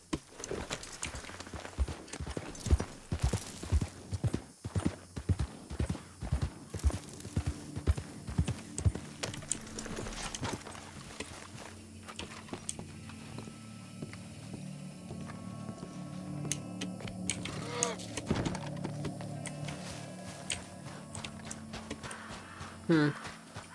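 Horse hooves clip-clopping in Red Dead Redemption 2, a quick run of sharp, evenly spaced hoofbeats at first, then a denser, steadier rumble of movement through a ruined town, with a voice talking over it.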